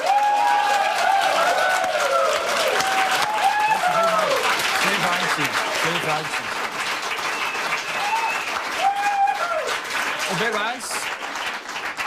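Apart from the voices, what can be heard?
audience applause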